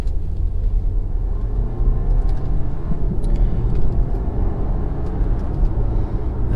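A 2018 Audi Q5 accelerating in fourth gear in manual mode, heard from inside as a steady, loud low engine and road rumble that holds without a break, with no talking.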